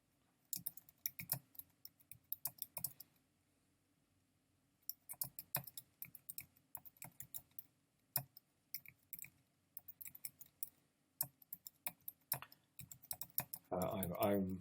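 Keys clatter on a computer keyboard while someone types a paragraph into an HTML page, in quick bursts of close keystrokes separated by short pauses.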